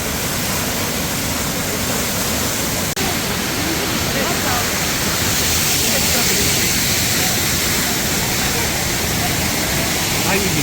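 Phurli Jharan waterfall in Kalahandi, Odisha, fills the air with a loud, constant roar of falling water, a dense unbroken wash heard up close while people speak nearby.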